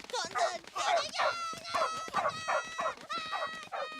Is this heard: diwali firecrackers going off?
no